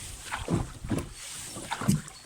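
Gentle water laps in a few soft, rhythmic splashes against a low wind rush, with no talking.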